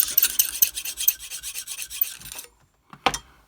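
A knife sharpened with a Lansky sharpening system, the hone rasping across the blade in quick, regular strokes for a couple of seconds, then a pause and one last short stroke, close and clear.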